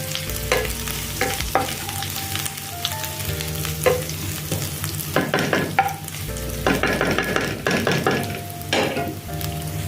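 Paneer cubes frying in a home kitchen pan for a veggie stir fry, a steady sizzle broken by repeated scraping strokes of a spoon stirring them, close and clear with no talking.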